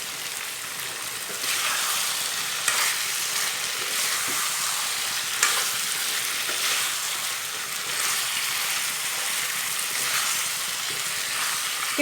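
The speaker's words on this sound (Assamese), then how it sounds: "এতিয়া মই হাই ফ্লেমত চিকেনখিনি ফ্ৰাই কৰি আছোঁ" Chicken pieces fry on high flame for a local chicken curry, giving a steady, bright sizzle with occasional louder crackling bursts and stirring noises, close and continuous with no talk.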